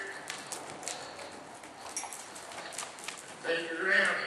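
Hooves of a young horse clip-clopping in a round pen during colt starting, scattered light footfalls at a distance under someone talking, with birds calling faintly and a louder stretch of noise near the end.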